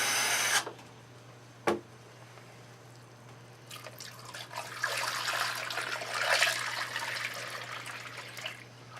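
Tap water runs into a five-gallon glass carboy during extract beer brewing, a sharp splash and click early on, then a rising rushing pour that fills the rest of the clip without talk.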